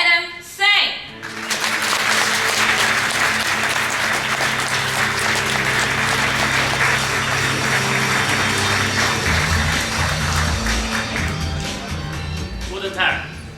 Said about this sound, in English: please welcome him with a huge applause